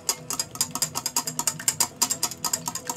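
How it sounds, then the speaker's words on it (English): A whisk beats a paprika and bacon custard mixture in a bowl, fast rhythmic clinking strokes repeating close up for a few seconds. "Whisk a little bit more, get everything blended nicely."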